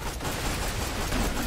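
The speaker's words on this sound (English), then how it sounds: "Activating additional door defenses. Turrets. Oh, great. Auto cannons." Auto cannon turrets in the Borderlands 2 video game fire a loud, dense burst of rapid gunfire that continues without a break, close and overwhelming, with no talking.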